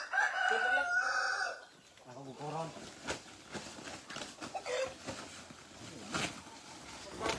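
A rooster crows loudly at the start, then Rhode Island chickens cluck and mutter on a farm, with people talking over the birds throughout.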